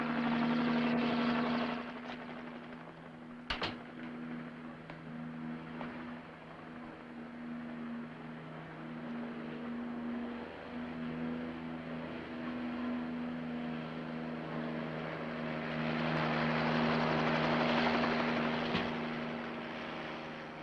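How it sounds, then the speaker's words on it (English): A helicopter flies overhead with a steady low droning rotor hum throughout, its sound swelling louder and broader toward the end as it passes near. "look, that's a helicopter."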